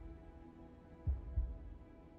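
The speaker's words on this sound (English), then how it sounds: "Heartbeat." Heartbeat sound effect in the video game Lies of P: two deep, low thuds about a third of a second apart, standing out over a quiet background hum.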